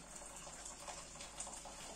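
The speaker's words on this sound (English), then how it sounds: "So we're going to pop a little bit of water in there" Cold water pours into a bowl to defrost salmon in a kitchen, a soft continuous gushing trickle heard faintly and alone, with no talking.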